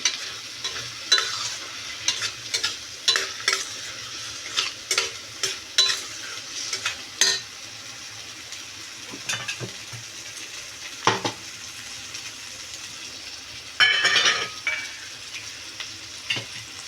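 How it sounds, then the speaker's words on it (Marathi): Eggs go into a frying hotel-style egg gravy and are mixed in, with a steady sizzle and a run of sharp spatula taps and scrapes against the pan, close, with no speech. "प्रथम आपण आधी अंडी टाकून घेऊया मिक्स करूया"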